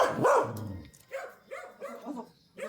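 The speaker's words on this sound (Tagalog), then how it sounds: "ang tapang na aso talaga oh" A fierce dog at a house in Calauan, Laguna gives one loud bark up close, then a string of smaller yips and whimpering barks at moderate volume.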